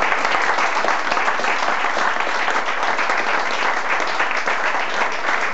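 Audience at a live music concert in Spanish gives a sustained, loud wash of applause, dense and even throughout with no gaps.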